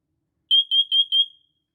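Siterwell smoke alarm under test gives four sharp, evenly spaced high-pitched beeps in quick succession, loud and close in a quiet room.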